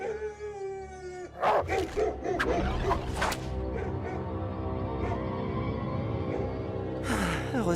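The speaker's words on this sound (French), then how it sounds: "Heureusement que les chiens ne grimpent pas aux arbres." Cartoon hunting dogs bark and howl in a burst of several sharp, close barks followed by drawn-out howls. A brief tonal sound comes before the pack and another bark flares near the end.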